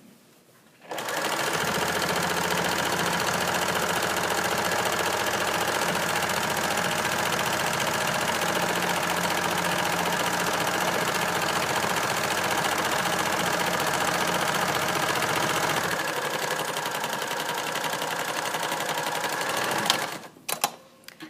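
A sewing machine stitching fabric, running in one continuous fast mechanical whir for nearly twenty seconds, close and steady, then stopping with a few short clicks at the end.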